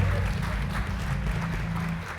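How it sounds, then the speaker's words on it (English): Audience applause at a male bench press and deadlift powerlifting competition as the women are escorted off the platform, a steady broadband clatter of clapping that fills the short span at moderate level with a low hum underneath. "give them another round of applause as the ladies get escorted off the platform"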